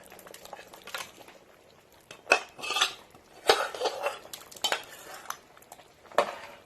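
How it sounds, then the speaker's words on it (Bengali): Cooked mutton being stirred into lentils in a pot, with scattered metal spoon scrapes and clanks against the pot coming in irregular bursts, fairly close and moderately quiet. "এবার আমি ভালো করে ডালের সাথে মাংসটিকে মিশিয়ে দিয়ে একটু নাড়াচাড়া করছি।"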